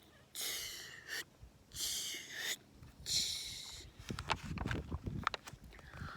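A voice mimics a rotating lawn sprinkler with repeated breathy hissing bursts in a regular rhythm, followed by clicking, chattering sounds, close and fairly quiet.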